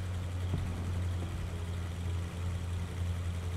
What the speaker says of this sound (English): It does make a lot of noise for a light tank.